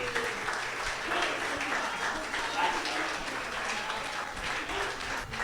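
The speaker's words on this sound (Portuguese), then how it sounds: "pode aplaudir ao Senhor aqui?" A church congregation applauds during a sermon, a dense, steady wash of clapping from many hands filling the room, with some voices faintly mixed in underneath.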